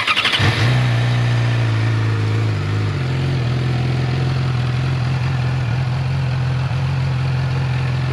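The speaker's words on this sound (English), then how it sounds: "The exhaust isn't loud at all. Sounds very tin canny" A 2013 Yamaha R6 sport motorcycle, already warm, starts up and settles into a steady, fairly thin, tinny idle through its quiet stock exhaust, close by and running alone without talk.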